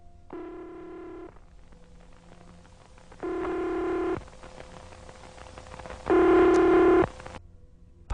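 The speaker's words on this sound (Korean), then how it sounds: "발신음이 3번 정도 울린 뒤" Telephone ringback tone in a Korean horror radio drama: three evenly spaced electronic ring bursts, each about a second long with gaps between, clear and close over a quiet background.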